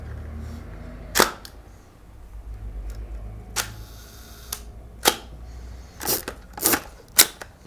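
A film camera fires its shutter for a one-second exposure at f/8, giving sharp close mechanical clicks paired about a second apart, followed by several more crisp clacks of winding and handling in a quiet abandoned building.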